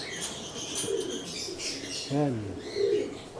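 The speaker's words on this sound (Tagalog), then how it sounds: "Lahat sila may mga inakay na mga kalapatids." Racing pigeons in a home loft and aviary coo softly in short bursts, with faint wing flutters nearby, while someone talks over them.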